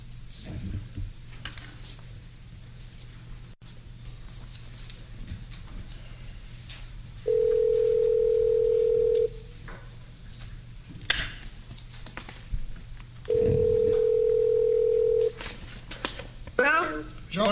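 A phone call connects during a county commissioners court meeting: two steady ringback tones, each about two seconds long, sound loud and clean several seconds apart over faint room noise and brief voices.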